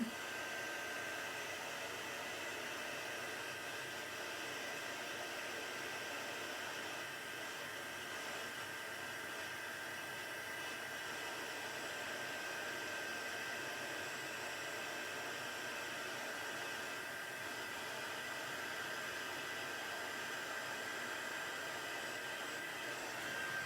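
A heat tool used for embossing blows a steady, hissing whoosh of hot air that runs unbroken for over twenty seconds, fairly faint and without talk.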